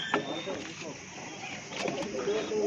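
Pigeons coo softly in a rooftop loft, low murmuring calls under someone talking, with faint background rustle throughout.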